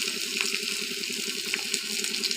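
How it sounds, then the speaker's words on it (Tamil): Finely chopped garlic and shallots sautéing in a pan for spinach sambar: a steady, close sizzle with soft crackling, alone and even throughout. "பொடியாக கட் பண்ணி வச்ச பூண்டு, பொடியாக கட் பண்ணி வச்ச சின்ன வெங்காயம் ரெண்டையும் சேர்த்து நல்லா வதக்கிக்கணும்"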